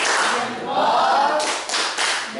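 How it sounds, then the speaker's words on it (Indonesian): A classroom group does a 'tepuk jempol' thumb clap for fellow students, the rhythmic claps building into a few sharp, loud bursts toward the end over a murmur of voices. "Kita beri tepuk jempol sekali lagi buat kelompok 2."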